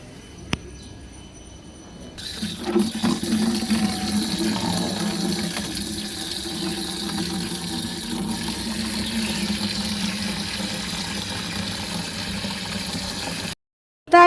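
Water pours steadily onto dry garden plants on a hot evening, a continuous rushing splash that holds at an even level for most of the stretch after a quieter start, with no talk over it.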